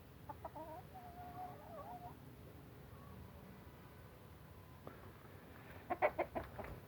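Chickens cluck softly in the background, then a louder burst of clucking comes near the end, with faint outdoor ambience throughout.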